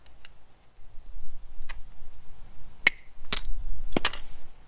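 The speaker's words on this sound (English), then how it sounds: "I'll take a pair of wire cutters and I will snip off the ends" Wire cutters snipping the ends off an unpainted wire coat hanger, a few sharp, isolated clicks and snaps spaced irregularly against a quiet background.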